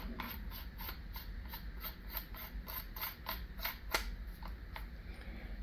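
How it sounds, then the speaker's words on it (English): A barrel extension is threaded onto a paintball gun barrel, making a close, steady run of small metallic clicks and ratcheting scrapes over a low background hum. "So you just unscrew your thread protector, screw your barrel extension on,"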